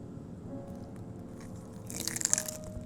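A potato wrap with a little sriracha gets bitten into, giving a short burst of crisp crunching near the end over a quiet kitchen background.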